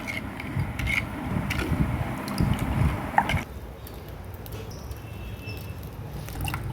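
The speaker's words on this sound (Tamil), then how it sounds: "இப்போ இது நல்லா மிக்ஸ் பண்ணிக்கலாம்" Soft wet squishing and sloshing as a thick sathu maavu flour and water mixture for porridge is stirred, louder at first, then fading to a quieter background.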